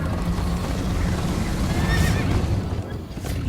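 A horse whinnies with a rising, wavering call in the Minecraft: Story Mode video game, set over steady galloping hoofbeats and rushing ambient noise, moderately loud and without speech.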